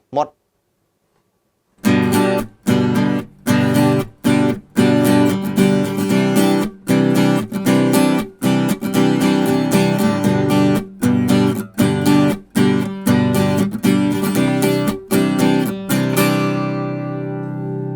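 An ordinary acoustic guitar fitted with an installed pickup is strummed through an amplifier with all effects off. Bright, rhythmic chords ring loud and close after a brief silence, with sharp strum attacks and short gaps between phrases.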